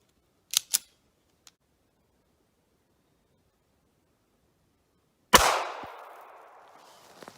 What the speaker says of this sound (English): Shooting from 4 feet away.